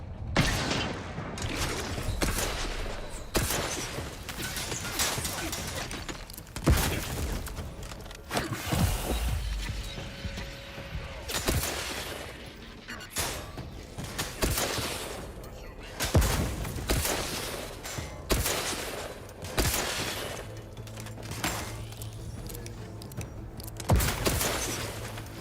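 Rapid bursts of sci-fi gunfire in The Outer Worlds 2 video game, repeated sharp shots and impacts spread throughout amid mechanical clatter, with occasional speech mixed in.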